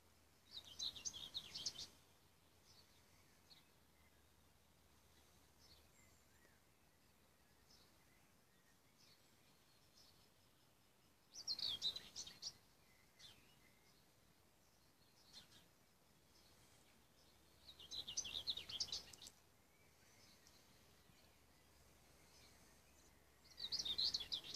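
Faint birdsong outdoors: short bursts of high chirping come and go every few seconds over a quiet, steady background hush.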